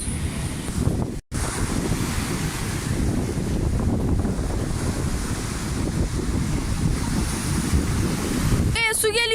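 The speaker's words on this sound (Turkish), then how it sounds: "O kadar hızlı ki dalgalar." Steady roar of sea waves and wind buffeting at Kumla, Gemlik, continuous and loud, with a brief dropout early on.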